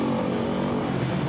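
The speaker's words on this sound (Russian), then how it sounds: "Мой мотоцикл." A motorcycle engine drones steadily nearby, a fairly quiet continuous rumble as the bike pulls away, with no voices over it.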